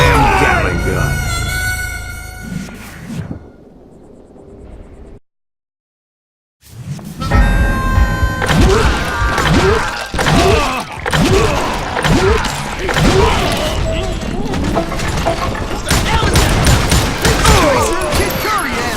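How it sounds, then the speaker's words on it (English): Gatling gun fire in the Western shooter Call of Juarez: Gunslinger comes as loud, dense bursts of rapid shots with crashes and impacts, broken by a sudden silent gap, then heavy sustained firing and clatter. "Kid Curry opened up on me with a goddamn Gatling gun"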